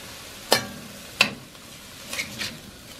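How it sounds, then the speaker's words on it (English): Pad thai ingredients sear in a hot pan under a low, faint sizzle, punctuated by two sharp utensil scrapes or clinks and a couple of softer stirring sounds. "We'll let it sear a little bit before we stir it around too much"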